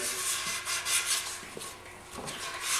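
Machining burrs are smoothed off the routed wooden edges of a guitar body with a steady, close abrasive rubbing in short overlapping strokes, with no talking.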